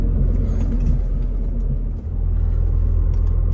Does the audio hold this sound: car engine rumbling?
yes